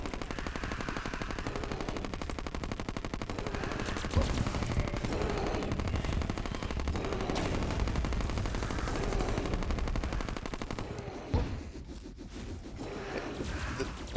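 Rapid gunfire in Terraria crackles in a dense, continuous stream of shots, loud and relentless, with a brief dip near the end before the firing picks up again.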